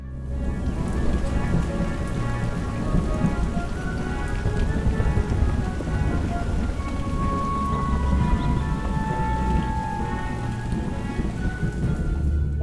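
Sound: rain and thunder

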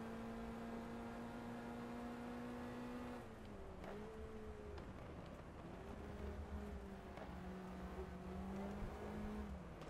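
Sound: Lotus Cortina race car engine in video game GT Legends

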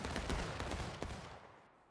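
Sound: musket volley fired on command in the video game War of Rights

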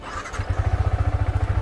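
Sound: motorcycle cold start, engine starting

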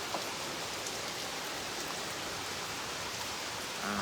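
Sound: rain falling at a Buddhist temple in London

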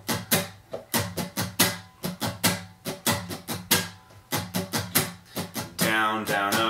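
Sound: guitar strumming pattern for a song

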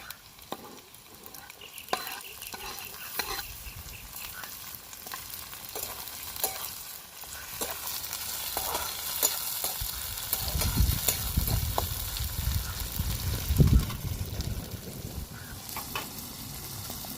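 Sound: onion, chilies and tomato frying in a pan

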